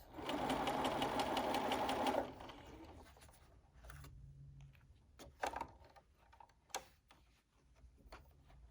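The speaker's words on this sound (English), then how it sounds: "I'm simply going to stitch that distance along the bottom" A domestic sewing machine runs a steady, buzzing stitch along the bottom edge of a fabric fitted face mask for about two seconds, then stops, leaving soft clicks and handling noises of the fabric being moved.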